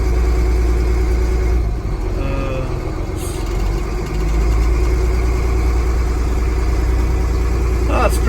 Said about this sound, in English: This is the old 89 International driving